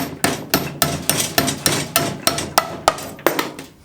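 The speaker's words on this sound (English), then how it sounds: "So you're gonna hammer it in." Steady hammer blows drive a concrete anchor, about a dozen sharp metal strikes in an even rhythm, loud and close with a bright clang.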